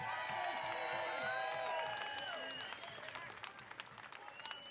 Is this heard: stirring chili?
no